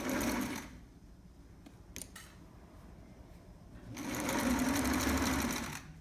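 A sewing machine stitching thick fashion fabric for the side of a trapper hat cap, two close bursts of running separated by a pause with small handling clicks.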